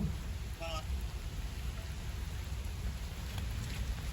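Heavy rain pours down steadily over a Punjabi village, a dense, constant hiss of drops filling the whole stretch, with a brief faint voice-like sound early on.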